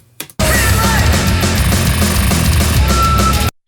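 A remastered version of a track blasts loud and dense for about three seconds, a sustained full-band wall of music that starts and cuts off sharply.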